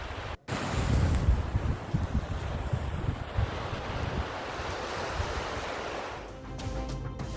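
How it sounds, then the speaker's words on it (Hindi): Waves surging beside the sea during heavy snowfall, with frozen ice on one side, make a steady broad wash of surf and wind rumble that stays loud and continuous throughout, with no voices. "एक तरफ बहता पानी, दूसरी तरफ जमी हुई बर्फ"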